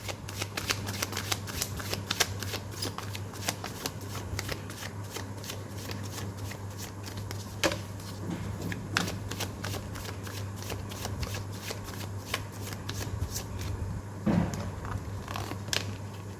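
Tarot cards are shuffled during a card reading, a dense run of crisp riffling and flicking that carries on almost without pause and stays close and fairly quiet over a faint steady hum.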